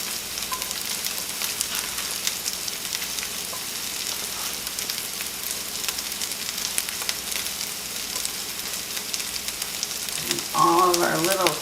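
Squirrel pieces frying in recycled bacon grease give a steady, loud sizzle that holds throughout, and a brief clatter joins in near the end.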